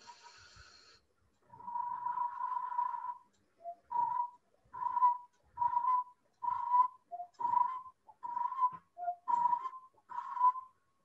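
A man whistles an imitation of the coppersmith barbet's call, a clear mid-pitched note repeated about eight times in an even, rhythmic series of short hoots after a longer opening tone, close and alone.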